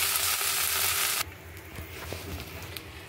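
Okra (lady finger) fries in oil in a pan, a close, dense sizzling hiss that suddenly drops to a softer, quieter crackle with occasional faint pops.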